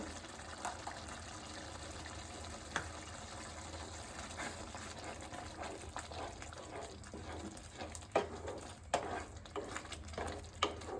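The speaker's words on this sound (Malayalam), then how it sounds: "കുറച്ചും കൂടെ ഒഴിച്ചു കൊടുക്കാം ഇത് ഒഴിച്ചു കൊടുക്കുമ്പോൾ കറി ഒന്നും കൂടെ കട്ടിയാവും" Liquid poured steadily into a mushroom masala curry makes a continuous gushing, splashing wash, with a few sharper splashes toward the end.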